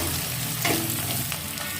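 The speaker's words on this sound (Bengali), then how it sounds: "দেখো পেঁয়াজটা অনেকটাই ভাজা হয়ে গেছে।" Chopped onions sizzle steadily in hot oil in a pan while being stirred for an egg and poppy-seed dish, a dense, continuous frying hiss with brief scraping stirs near the middle and end, close and alone.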